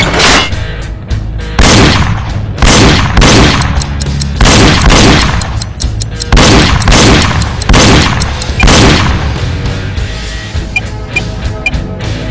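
Loud gunshots from Reload on the Nintendo Wii, fired in rapid repeated bursts with booming tails, close and dominant with no talk.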